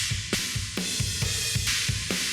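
Drum kit overheads run through a compressor, the snare cracking forward with more room ambience, a steady full groove of cymbals, kick and snare hits with no talking.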